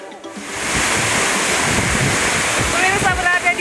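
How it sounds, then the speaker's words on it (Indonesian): Rushing water of the Ayadaya waterfall in Simalungun, North Sumatra, with clear bluish water, heard as a steady, loud, broadband roar close by, continuous throughout with slight fluctuations and no one speaking. "berada di bawah air terjun Ayadaya ini"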